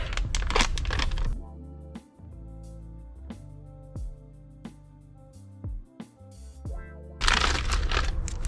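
Crinkling and crackling of a plastic parts bag for a Traxxas Stampede kit's differentials being pulled open, loud bursts at the start and end with sparse sharp crackles in between.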